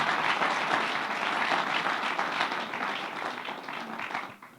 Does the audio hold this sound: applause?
yes